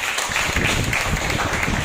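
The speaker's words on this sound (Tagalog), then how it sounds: "Isa pang malakas na palakpak para sa Lord." Loud, dense applause from a church gathering praising the Lord, a steady wash of many hands clapping together with a few voices mixed in.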